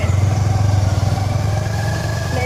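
A motorcycle pulls up and parks near the steps of Khammam fort, its engine thumping in a close, steady low pulse that eases slightly as it settles toward idle.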